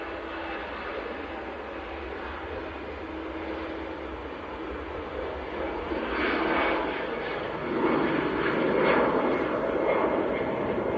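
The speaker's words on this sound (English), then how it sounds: "Next to go, Lufthansa to Munich," A Lufthansa Airbus A320 departs Manchester Airport for Munich, a steady distant jet roar that swells louder toward the end, with no voices.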